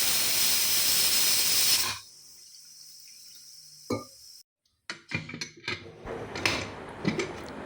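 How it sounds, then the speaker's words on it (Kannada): A pressure cooker, used while cooking a North Karnataka masala ridge gourd curry, lets out a loud, steady steam hiss for about two seconds, then falls quiet before close metallic clatters of the lid and pot. "ನೋಡಿ, ಕುಕ್ಕರ್ ಹವೆ ಎಲ್ಲ ಹೋಗಿದೆ."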